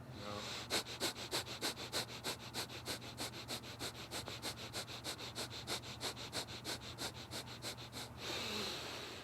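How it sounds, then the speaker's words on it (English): Rapid, rhythmic sniffing breaths through the nose during breath of fire yoga breathing, about three sharp close exhalations per second for roughly eight seconds before stopping. "And breathe rapidly through your nose."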